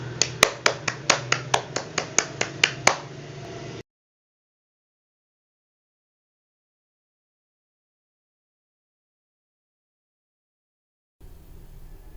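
Group of schoolchildren in a third-grade class clapping in a quick burst of sharp, rhythmic claps for a few seconds, close and clear, followed by near silence.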